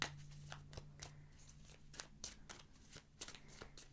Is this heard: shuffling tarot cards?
yes